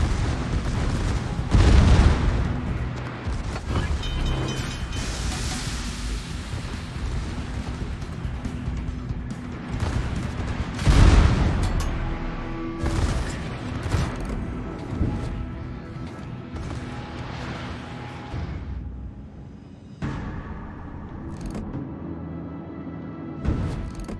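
Heavy naval gun salvos boom from a battleship in a World of Warships brawl, with several loud deep blasts spaced over a continuous rumbling battle din.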